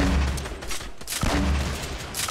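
Gunfire in Fortnite Battle Royale, a couple of loud, close bursts of rapid shots separated by a short pause, with game effects and no talking.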